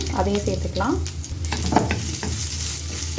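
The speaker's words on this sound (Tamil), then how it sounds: "இதையும் சேர்த்து நல்லா வதக்கிக்கோங்க." Thinly sliced onion sizzles and hisses steadily in hot oil in a pan while being stirred for Chettinad-style roasted-and-ground mutton kulambu, a close, continuous frying sound with a brief voice over the start.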